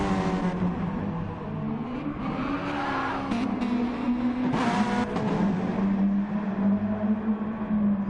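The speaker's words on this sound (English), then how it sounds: "I do have to say these cars sound really, really good" Race cars lapping a circuit in Gran Turismo Sport, a loud, continuous engine drone that rises and falls with gear changes and throttle, several cars blending together close up with brief passing swells.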